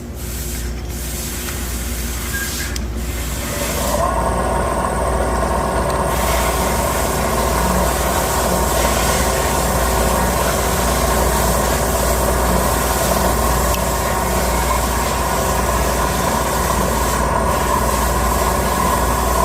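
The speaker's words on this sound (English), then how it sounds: "now I'm ready to grind. The intakes first." Intake valve seats in a cylinder head being ground during a three-angle valve job, a loud, steady whirring grind that starts after a couple of brief clicks and runs continuously up close.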